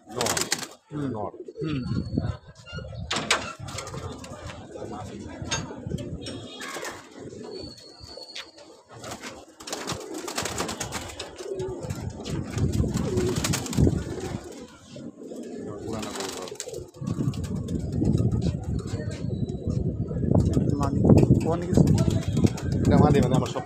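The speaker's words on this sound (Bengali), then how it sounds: "আরেকটা কবুতর, একটা সবুজওয়ালা" Pigeons coo in a loft in Lalbag, low throaty calls scattered through a long stretch while someone talks nearby over them, with rustling and movement around.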